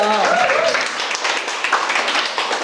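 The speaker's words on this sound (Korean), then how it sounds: "여러분 다시 한번 박수 보내주시고요" An audience at a Korean humanities lecture on Sima Qian's Records of the Grand Historian applauds the speaker, a dense steady clapping that runs the whole clip, with a voice briefly heard over the start.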